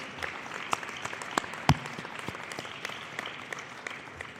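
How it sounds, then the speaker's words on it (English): A crowd claps at an arena rededication ceremony, a fairly sparse, moderate applause with a few sharp, loud individual claps standing out near the front. "can we take another round of applause for Upload Partners for helping us tell this story"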